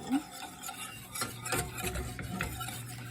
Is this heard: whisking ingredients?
yes